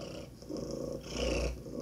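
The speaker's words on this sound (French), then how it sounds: "on va écouter un ronronnement de chat" A cat purrs softly and steadily up close, a low rumbling drone that swells and fades with each breath.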